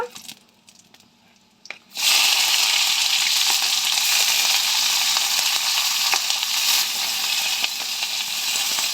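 Mustard seeds and cumin hit hot oil and start a loud, steady sizzle with scattered pops and crackles. It follows a quiet moment with a few faint clicks and keeps going at an even level until the end.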